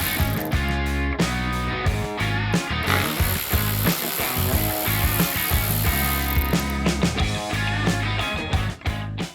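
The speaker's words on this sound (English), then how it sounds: "we'll get to this last post here and take out the two bolts centered around it" Factory bolts are worked out of a Ford F250 truck bed with a ratcheting tool, giving repeated clicking and rattling bursts with short pauses between them, close and fairly loud.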